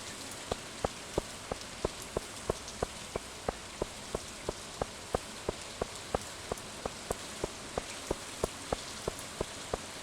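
Steady rain patters across a surface in the video game Stardew Valley, with regular bright drips plinking at a steady rhythm over a constant hiss.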